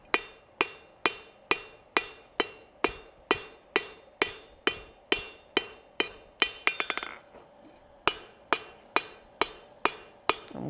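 Hammer blows on hot steel at an anvil while forging a decorative hacksaw, ringing in a steady, even rhythm of about two strikes per second, with a brief flurry of quick light taps midway and a short pause before the regular blows resume.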